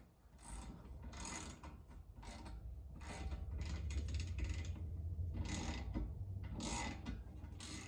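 Trailing arm end on a BMW M340 threaded in and tightened by hand, giving a run of close, repeated ratcheting and mechanical clicking bursts over a low steady background rumble.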